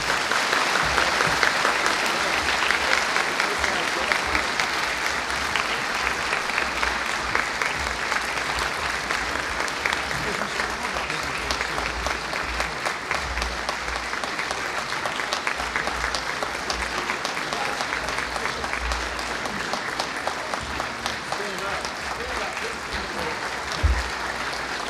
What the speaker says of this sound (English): You may now clap.